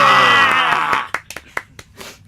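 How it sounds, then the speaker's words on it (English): A tonal, voice-like sound fades out, then several sharp, sparse hand claps follow at irregular intervals, close and distinct. "When I applaud, you have to engage in the applause."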